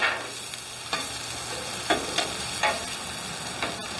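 Chopped cheese and sausage sizzling in a pan, a steady close frying hiss with sharp scraping stirs at irregular intervals about once a second.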